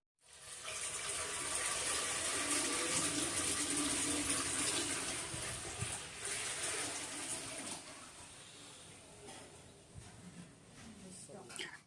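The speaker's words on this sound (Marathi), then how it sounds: "पातेल्यामध्ये पाणी टाकलं" Water is poured into a large brass cooking pot in a loud, continuous gush lasting several seconds, then thins out and tapers as the pour ends.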